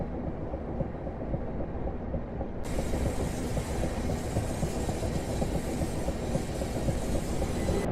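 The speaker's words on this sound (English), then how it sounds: "This, for example, is a virtual cab ride between Watford Junction and Watford High Street." London Overground train running between Watford Junction and Watford High Street, heard from the cab: a steady, loud rumble and rattle of wheels on track that grows slightly brighter partway through.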